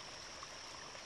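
Conodoguinet Creek flows near Bernheisel Bridge with a steady, even rush of running water, a constant hiss of moderate loudness and no voices.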